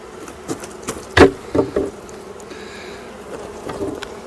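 A honeybee colony roars in a low, steady drone, with a few louder bumps and knocks close by and faint buzzing throughout.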